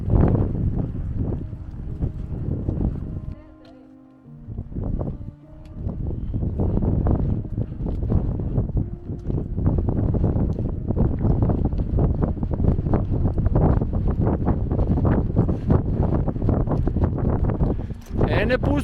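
Strong wind buffets the microphone at the Hajdučka vrata mountain pass in Bosnia, roaring steadily with a brief lull, while people talk over it.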